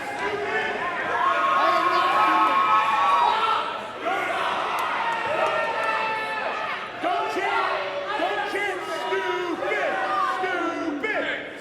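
Arena crowd roaring and cheering wildly for a wrestler in the ring at a live wrestling event, a dense continuous wall of voices with loud swells, excited shouts and scattered whistles throughout.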